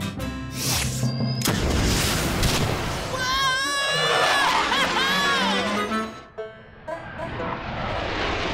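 Cartoon rocket launch in Olly the Little White Van: a loud, roaring, sustained blast with whistling, wavering tones on top, surging and then cutting off sharply before the rumble returns.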